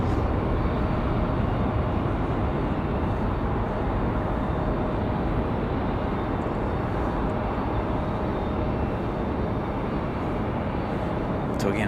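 An American Airlines airliner arriving from Charlotte on approach to land on runway 23 right at Raleigh-Durham International Airport, a steady loud broadband engine roar that fills the entire stretch without letting up.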